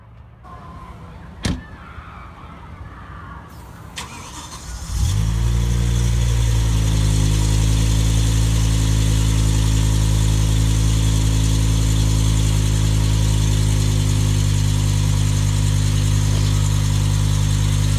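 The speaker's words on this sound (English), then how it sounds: "right at this point where he started his car, he proceeded to rev the engine really hard." An unreliable BMW's engine cranks and catches after a few quiet seconds, then settles into a loud, sustained high rev held steadily to the end, close to the microphone with no one talking.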